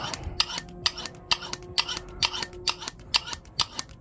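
Scissors opened and closed over and over while being sharpened, giving a steady rhythm of crisp metallic snips, about three per second, close and clear with no talking.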